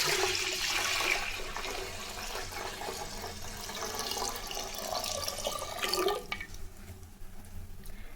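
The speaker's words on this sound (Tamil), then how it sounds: "பால் இதில் ஊற்றிக்கலாம்" Milk pours into a steel vessel in a home kitchen, a steady splashing, gushing stream that runs for several seconds before tapering off into quieter trickles.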